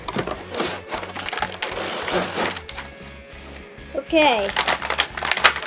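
Toy track set packaging for a Ford jump track is pulled open by hand, with close plastic and cardboard crinkling and tearing under a speaking voice.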